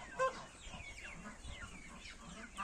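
A speckled farmyard hen clucks softly among her chicks, short throaty clucks and faint high cheeps scattered over a quiet outdoor background.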